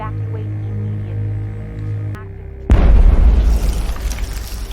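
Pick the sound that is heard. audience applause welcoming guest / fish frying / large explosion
large explosion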